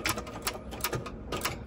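Domestic sewing machine backstitching across the zipper teeth of a bag, with rapid mechanical needle clatter in short bursts that rise and fall in speed, close by and alone.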